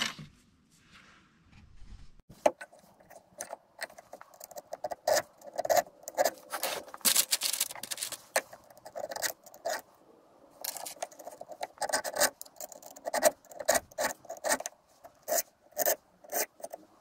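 Scrap metal being hand-filed into a jeweler's stamp, producing rapid, uneven bursts of dry rasping strokes that come close and loud after a quiet start and continue steadily with brief pauses, without talk.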